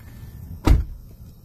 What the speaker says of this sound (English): Close the door, man.